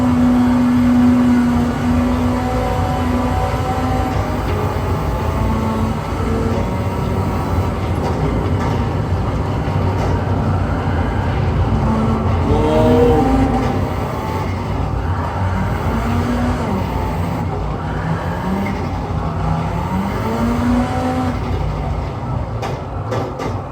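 Car engine and driving in the Gran Turismo 7 video game, a lively old car with a swapped engine, giving a steady, loud engine drone with shifting tonal pitch that rises and falls as it corners, continuous throughout with no talk.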